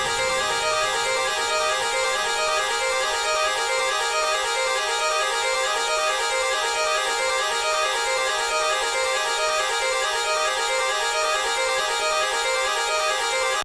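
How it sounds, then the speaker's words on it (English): A dry synth pluck from the Forfeit Serum kit, the lava la pluck, plays a steady repeating note pattern with bright stacked harmonics, loud and alone throughout. "So this pluck is from the Forfeit Serum kit by Iconic, and it's this lava la pluck"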